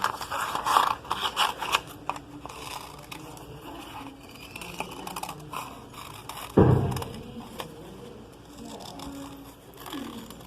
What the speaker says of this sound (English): we have got our crescent which we can cut out